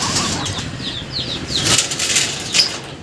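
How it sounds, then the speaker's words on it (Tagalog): Young birds flap their wings and take off outdoors, producing a flurry of soft whooshing wingbeats and fluttering over a steady background hiss, with a few thin chirps mixed in. "Ito yung mga young bird. Pinilipad pa."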